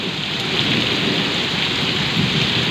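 Heavy rain pours down in Goa in a dense, unbroken roar, loud and close, with a low rumble underneath.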